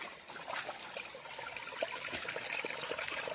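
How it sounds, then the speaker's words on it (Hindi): Floodwater bursting up out of the ground among rocks and debris after a flood washed through a hillside town, a steady close trickling gush with small splashes and no talk. "और यहीं से पानी फूट रहा है"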